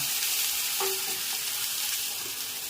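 Raw mango pieces hit hot oil in a home tempering, giving a bright, steady, close sizzle with a brief clatter near the start that fades into continuous crackling hiss.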